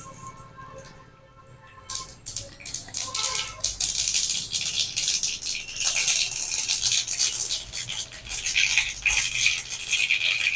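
Mustard seeds crackling in hot oil while tempering spicy semolina: a dense, rapid patter of tiny pops and spits that starts abruptly after a short quiet stretch and keeps going, close and bright, with no talking.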